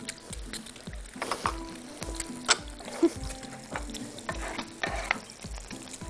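Ghee and coriander sizzle in a pan for ful with eggs, a close frying hiss broken by rhythmic spoon scrapes and stirring taps, with no talk.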